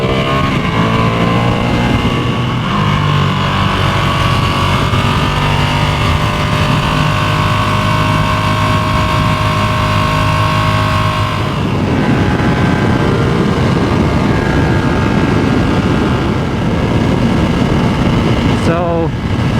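A Ducati Streetfighter V2 motorcycle engine drones loudly and steadily while riding, its pitch shifting as the rider speeds up, with wind noise and someone talking over it.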